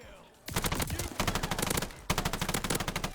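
Rapid automatic assault rifle fire with a rapid barrel fitted, in a video game: two close, loud sustained bursts of fast shots, the second starting after a brief gap.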